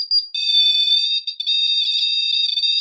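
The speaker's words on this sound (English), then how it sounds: "So if you break the field, it alarms." A ghost-hunting field sensor alarm beeps with a shrill, piercing electronic tone, cutting out briefly a few times before sounding continuously, loud and close.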